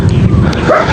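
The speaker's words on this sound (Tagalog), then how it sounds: "Ito yung aso ni lolo eh." A dog at a rural farm home gives a short, close, loud bark or yip, a single brief burst.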